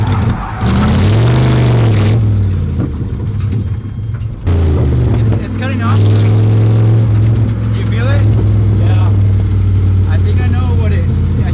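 Datsun car fitted with a big V8 and almost no exhaust, revving hard and loud up close, engine pitch rising and falling through repeated blips, with people talking over the roar.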